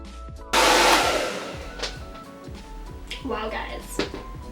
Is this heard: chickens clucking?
no